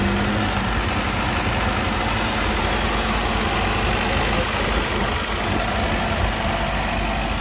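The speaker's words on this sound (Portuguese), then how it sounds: "Olha o motor do carro, pessoal." A Chevrolet Chevette engine idles at a used car fair in Caruaru, a steady, close, continuous rumble with even vibration and no talk over it.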